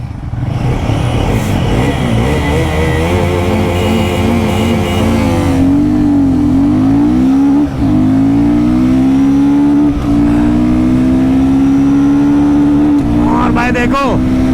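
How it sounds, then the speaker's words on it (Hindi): Royal Enfield Guerrilla 450 motorcycle under way and accelerating, a loud steady engine drone rising in pitch through the gears with brief dips at shifts and a rush of wind, a voice briefly heard over it. "और मैं सबसे पहले चलाऊंगा गोरिल्ला 450।"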